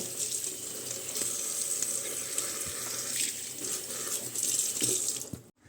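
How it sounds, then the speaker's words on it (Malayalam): Tap water runs steadily into a sink while bean leaves are rinsed by hand, a continuous close splashing stream with small shifts in flow and no talking. "അപ്പോൾ നമ്മുടെ ഇലയെല്ലാം കഴുകിയെടുത്തിട്ടുണ്ട്"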